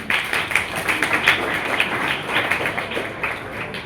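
A dense, steady wash of audience applause for junior competitors at an inter-house Hindi debate competition, continuing evenly for several seconds with no speech.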